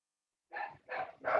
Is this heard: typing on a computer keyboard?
no